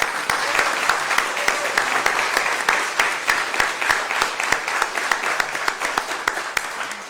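At an Eagle Scout ceremony, a room full of people claps for Shane Rediker in a full, continuous burst of applause that stays fairly even throughout, with faint talk underneath.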